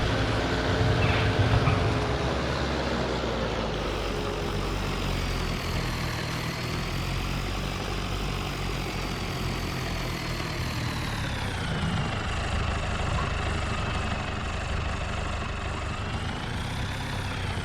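A farm engine on a restored machine runs at a steady idle, a continuous low rumble with a slight rise and fall in tone, heard close and alone with no talking.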